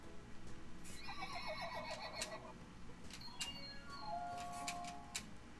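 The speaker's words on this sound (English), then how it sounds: "She'll neigh." A Zuru My Magical Unicorn toy gives a high, electronic whinny, followed by faint ticking and another short neigh, fairly quiet and close.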